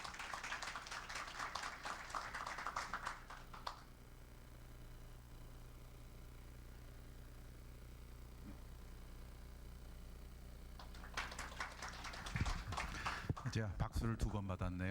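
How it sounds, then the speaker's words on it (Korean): Audience applause at a science-and-technology jobs forum greets an institute director: a burst of clapping for about four seconds, a quiet stretch with low room hum, then a second wave of clapping near the end. "박수로 맞아주시면 감사하겠습니다"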